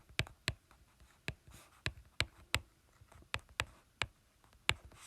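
A pen taps and scratches on paper in quick, sparse strokes while math is written out, close and quiet, with short pauses between marks.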